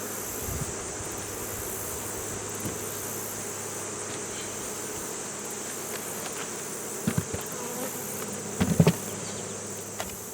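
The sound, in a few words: honey bees buzzing in a crowded hive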